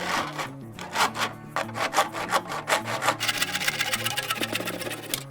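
Rhythmic hand sawing through a tube with steady back-and-forth rasping strokes, close and fairly loud, continuing throughout with no talking.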